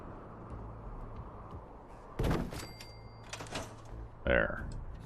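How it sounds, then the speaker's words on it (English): Gunfire in the video game Fallout 4 comes as two faint, distant bursts of shots a couple of seconds apart over a quiet, low background hum. "I hear gunfire."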